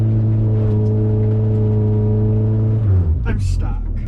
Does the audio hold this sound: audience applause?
no